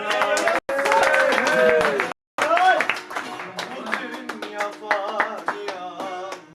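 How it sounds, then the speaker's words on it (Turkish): Rhythmic hand clapping along to a Turkish Alevi folk song at a celebration, with a singing voice and instruments carrying the tune and a couple of brief dropouts. "Aman alkış!"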